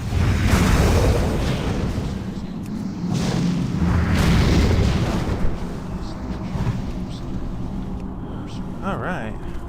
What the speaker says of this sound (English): I'm just throwing Scorch over and over again because that's my freebie.